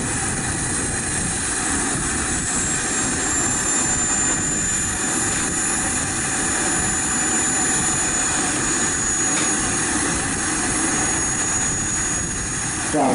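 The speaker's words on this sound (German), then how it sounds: "Das Triebwerk läuft langsam auf den" A BK 117 model helicopter turbine engine spools up at a scale heli meeting, producing a loud, steady, broadband whine and roar with a faint high tone running throughout.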